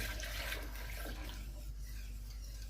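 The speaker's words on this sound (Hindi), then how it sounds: "मुझे लगता है इसमें थोड़ा सा पानी, तकरीबन आधा जग और मैं डालूँगी।" Water poured from a half-full jug into a yogurt and gram flour mixture for Punjabi kadhi pakora, a steady close splashing pour that fills the whole short stretch.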